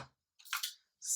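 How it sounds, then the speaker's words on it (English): Key lime pie filling is scooped into a graham cracker crust, giving two brief, soft, wet squishes close by with quiet gaps between and no talking. "you are gonna scoop it into the pie"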